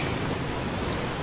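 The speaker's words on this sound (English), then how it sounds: "and it's raining!" Steady rain falls in the video game Fallout: New Vegas, a dense, even hiss of downpour with a low rumble underneath, continuous and fairly loud throughout with no talking.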